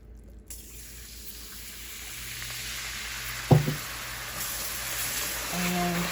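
Water runs from a kitchen tap into a container for cooking with a steady, moderate hiss. It begins after a short quiet moment and continues throughout, with a brief clink of the container midway.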